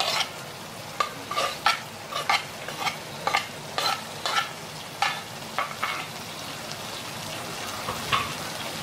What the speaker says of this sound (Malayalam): ഇതിനകത്തോട്ട് ഞാൻ ക്യാപ്സിക്കം ചേർക്കാൻ പോവാണ്.